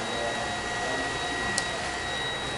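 A Deebot D35 robotic vacuum cleaner running steadily at its base, a constant whirring hum with a faint high whine and one small click partway through.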